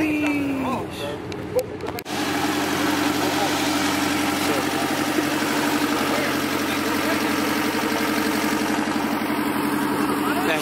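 A turbocharged Honda S2000 engine idles steadily and close by, its low even rumble running throughout with a brief disturbance near the start; people talk over it.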